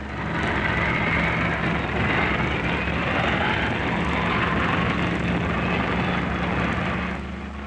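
RAF aerobatic team jets flying close in formation, a continuous loud engine roar that holds steady throughout with a slight fade at the end, no voices.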